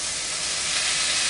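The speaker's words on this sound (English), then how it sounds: "sort of trap some of that steam so it can like cook from both sides" Food cooks in a covered pan, giving off a steady, close hiss of steam. The sound is even and continuous, with no voices over it.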